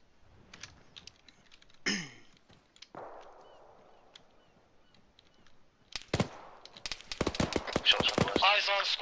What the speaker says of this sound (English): Shots on the west.